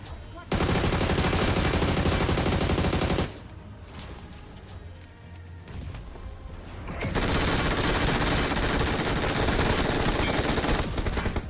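Sustained bursts of automatic gunfire in BGMI (PUBG Mobile), loud and continuous, broken by a few seconds of quieter ambient sound before the shooting resumes even more densely.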